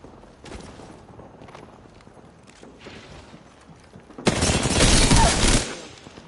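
Gunfire in a video game: a few scattered shots early on, then a loud sustained burst of rapid fire lasting over a second near the end, close and harsh.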